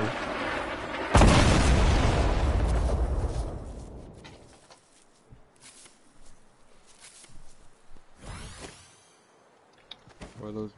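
A grenade launcher in Fortnite sets off one loud, close explosion with a long, rumbling decay. Several smaller, fainter pops and thumps follow sporadically over quieter game ambience.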